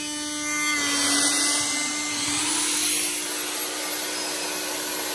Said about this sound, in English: I'll do the drill.